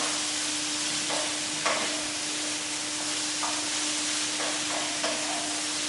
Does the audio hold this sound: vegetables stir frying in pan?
yes